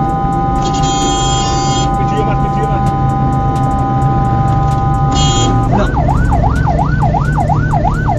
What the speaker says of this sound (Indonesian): Sopir ambulan sudah membunyikan klakson berkali-kali